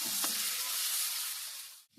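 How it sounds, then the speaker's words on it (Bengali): Steady, close sizzle of spice paste frying in a hot pan, a brief scrape of stirring near the start, then the sizzle cuts off abruptly. "দিয়ে ভালো করে মশলাটা আমি কষিয়ে নিচ্ছি"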